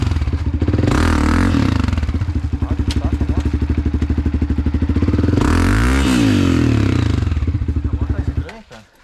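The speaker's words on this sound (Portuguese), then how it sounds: "A moto tá estranha, cara." A dirt motorcycle's engine labors on a rough adventure-tour trail, loud and close, rapidly pulsing as it revs up and strains, then dropping off at the end, with someone talking over it.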